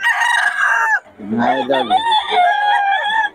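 Roosters and chickens at a Bocaue flea market crow loudly and close by, one long crow at the start followed by more crowing and clucking while someone talks over it.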